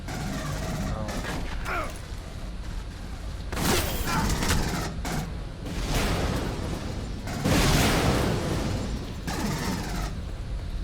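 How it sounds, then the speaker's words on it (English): Dense combat in Aliens: Colonial Marines: booming explosions and rapid gunfire crackle continuously, loud and close, with bursts swelling and fading. "You guys just run through the explosions like that"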